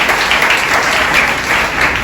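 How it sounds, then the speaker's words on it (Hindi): A church congregation claps loudly and steadily throughout, a dense continuous burst of applause filling the space with no voices standing out above it. "प्रभु के लिए जोर से ताली बजाइए।"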